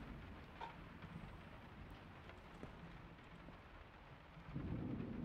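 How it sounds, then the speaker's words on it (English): Steady rain falls in the survival video game Miscreated, a dense constant hiss with low rumbling thunder beneath it, swelling louder near the end. "the rain needs to go away"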